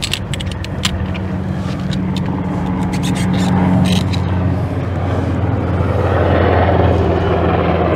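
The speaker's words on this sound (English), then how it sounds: "here goes the Coast Guard chopper." A Coast Guard helicopter passes over a boatyard near the water, its low steady rotor drone building and holding loud and close, with intermittent clanks and knocks from nearby work on top.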